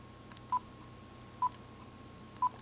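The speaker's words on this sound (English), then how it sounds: "I'm going to call the phone right now and demonstrate." Telephone dialing tones sound while a cell phone is being called: three short, evenly spaced beeps, each about a second apart, fairly faint over a low background hum, with no talking.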